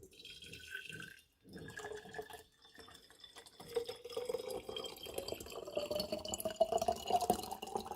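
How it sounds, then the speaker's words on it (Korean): Warm water pours into a glass gas jar, a steady liquid trickle and splash building in pitch as the vessel fills, close and fairly quiet. "먼저 집기병에 따뜻한 물을 부어줍니다"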